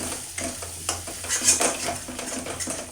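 Chicken malai tikka gets mixed with leftover gravy in a bowl, with soft wet squelching and a few light spoon-against-bowl clinks in short, uneven bursts.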